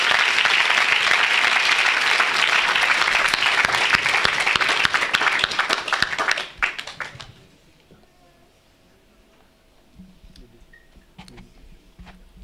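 Church audience loudly applauding and cheering for Jesus at an evangelist's service, a dense crowd roar that fades out after about six seconds into quiet room sound with faint taps.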